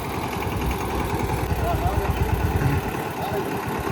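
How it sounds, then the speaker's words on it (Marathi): An 18 HP Eicher 188 tractor engine idles close by with a steady, rapid low chugging thump, loud and even throughout, while a voice talks over it. "आयशर 188 माझ्यामध्ये 18 HP चा ट्रॅक्टर आहे हा"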